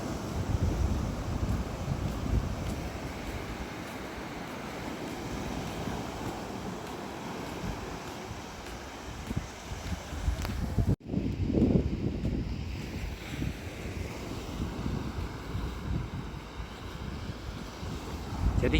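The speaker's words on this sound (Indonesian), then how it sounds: "nggak terlalu besar itu ombak yang dari sana udah kehantam tebing tuh" Ocean surf at Kuyon Beach in Trenggalek breaks against a cliff in a steady, broad rush with wind buffeting the microphone, and one sharp dropout near the middle before the roar resumes.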